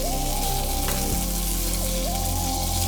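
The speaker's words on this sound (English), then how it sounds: "add in some oil, a spoon of tomato paste, and a generous knob of butter" Tomato paste and a knob of butter sizzle in very hot oil in a pan. A steady frying hiss runs under prominent background music.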